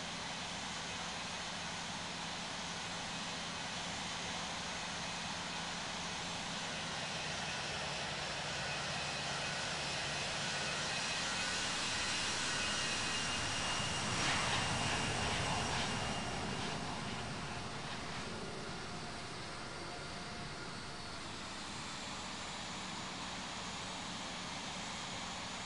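Airbus A340 jet engines taxiing in the flight game Infinite Flight, a faint steady whine and rumble that swells gently in the middle and then eases back.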